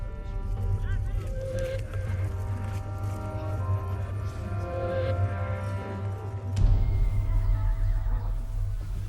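A horse neighs and whinnies over a deep, droning musical bed with a French voice talking throughout, and a brief burst of louder movement near the end.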